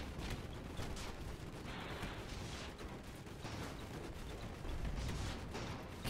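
Dense, continuous gunfire and cannon blasts from a large airship battle in the game Airships: Conquer the Skies, overlapping rifle shots and booms forming a constant loud barrage.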